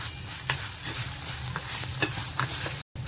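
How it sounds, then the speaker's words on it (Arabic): Orzo pasta and finely chopped onion stir-frying in a pan, a steady close sizzle with a few spoon scrapes and taps, briefly cutting out near the end. "انا شوحت اللسان العصفور مع البصلايه ما غمقتهمش"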